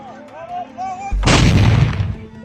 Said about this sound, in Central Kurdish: دەنگی تەقە و بۆردومانەکان ترساندوونی.